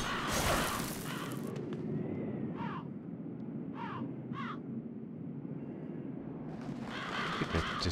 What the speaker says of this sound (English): There's some birds.